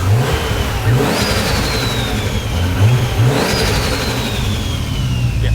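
A stationary Toyota AE86 engine is blipped several times, short rising revs over a steady idle rumble, loud and close, with no talking.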